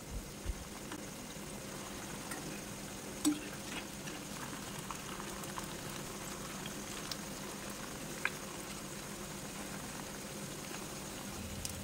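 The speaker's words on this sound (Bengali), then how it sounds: "পকোড়াগুলো উল্টিয়ে পাল্টে একটু লাল করে ভেজে নেব" Semolina and potato pakoras deep frying in a pan of oil, a soft steady bubbling and crackle with a few faint clicks, no voices.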